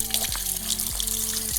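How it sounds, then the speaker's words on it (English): Water pours steadily into a garden water pump, a constant splashing rush with repeated gurgling glugs as the level rises, close and loud with no talk. "We need to pour water in here, because otherwise this wouldn't work."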